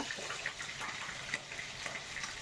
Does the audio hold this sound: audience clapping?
no